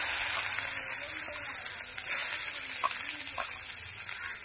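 Ivy gourd with green chillies and coriander frying in hot oil, giving a steady broadband sizzle with a gushing, rain-like texture that holds evenly throughout, close and moderately loud.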